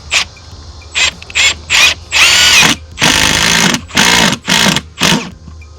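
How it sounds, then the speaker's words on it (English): A power drill drives screws into plastic brackets for a floating composite deck, the motor whirring in about eight separate bursts, the first ones short and the later ones longer and louder, with quiet gaps between them and no talk. "that's all I'm doing right now is I'm just drilling them straight in"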